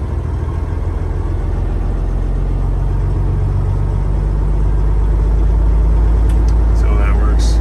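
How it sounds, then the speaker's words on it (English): A 2006 Peterbilt 379 truck's diesel engine runs at a raised idle, a loud, steady low rumble that holds constant throughout, heard from close range. "I can idle the engine up."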